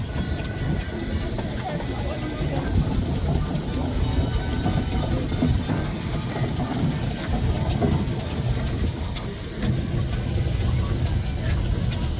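A giant steam traction engine rolls along in a parade, giving a steady, dense rumble with hissing steam and rhythmic mechanical clatter that stays loud and unbroken throughout.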